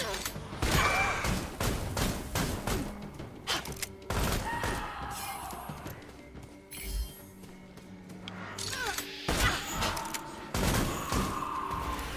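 Gunfire from the Ravenswatch video game, with dense bursts of sharp shots and crashes repeating through the clip, loud and busy, while a player's voice is faintly mixed in.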